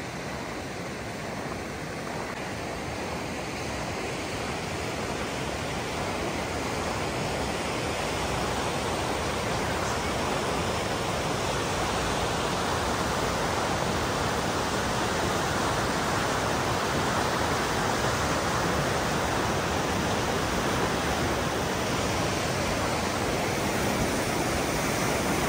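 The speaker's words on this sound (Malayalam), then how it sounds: "വെള്ളം ശക്തിക്ക് ഒഴുകുന്നുണ്ട്." A strong stream or waterfall in wintry Finland, a loud, unbroken broadband rush of flowing water holding steady for nearly half a minute with no voices.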